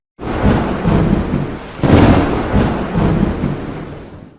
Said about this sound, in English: Wild thunder cracked and rumbled throughout the night during the ferocious storm.